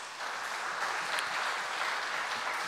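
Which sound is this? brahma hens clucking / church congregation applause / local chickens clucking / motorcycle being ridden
church congregation applause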